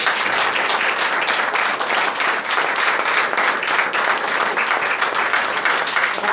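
A lecture audience bursts into dense, sustained applause, loud and even from start to finish with no break in the clapping.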